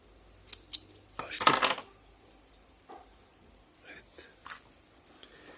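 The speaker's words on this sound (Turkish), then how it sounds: "Şimdi pipeti keseceğim." Scissors snip through a plastic straw with one crisp close cut amid a few faint handling clicks and rustles in a quiet room.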